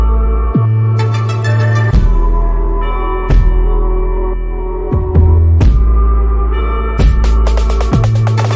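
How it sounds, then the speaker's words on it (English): A large bell identified as the Liberty Bell, in a loud, sustained, ringing tone layered over a steady hum. Sharp strikes recur roughly every one to two seconds, each followed by a long decaying resonance. "That's the Liberty Bell, y'all hear, the Liberty Bell."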